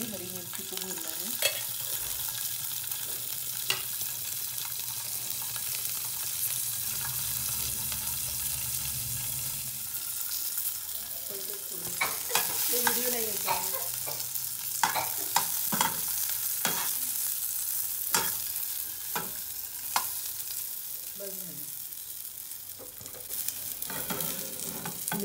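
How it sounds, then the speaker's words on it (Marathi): Green chilies frying in a small amount of oil give a steady close sizzle, with repeated sharp scrapes and clinks of stirring, especially in the second half, and no one talking. "इतने ही तेल में हरी मिर्ची को भूनना है"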